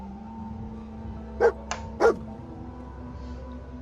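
A dog in Fallout 4 gives two sharp, loud barks about half a second apart, with a softer yip between them, standing out against a quiet humming game background.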